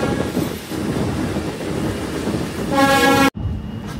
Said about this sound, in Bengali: আমাদের ট্রেনটি এখন গোপীবাগ রেলগেট অতিক্রম করছে।